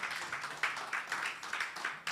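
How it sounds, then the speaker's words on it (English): Audience applause at a men's mentoring conference, welcoming Pastor Tim to the stage: a steady wash of many hands clapping at moderate, fairly distant level, with a few swells, and no talk. "Let's give it up for Pastor Tim here. Round of applause, please."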